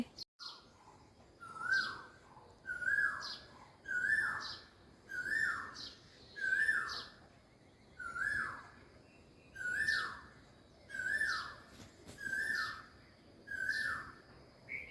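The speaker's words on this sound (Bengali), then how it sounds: "কোকিল পাখির ডাক" An Asian koel calling repeatedly: clear rising two-part whistled notes in a regular series, about one every second or so, moderately distant and otherwise quiet surroundings, with no voices.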